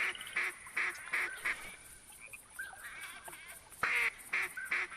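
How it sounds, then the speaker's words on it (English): Pintail ducks call in theHunter Classic hunting game, with short honking calls repeating in bursts over a few seconds and a soft wavering call between them. "I hear pintails."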